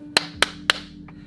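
Three sharp hand claps from children at a drag storytime event, evenly spaced and crisp, with a faint fainter fourth tap trailing after them.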